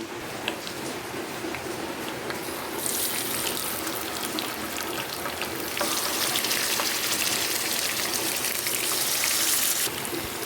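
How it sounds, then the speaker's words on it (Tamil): Fish fries in hot oil for a spicy Tamil-style stir-fry, giving a dense, rain-like crackling sizzle that runs steadily throughout and grows slightly louder in the second half. "ஒரு பக்கம் நல்லாவே ஃப்ரை பண்ணி கொண்டு இருக்குது"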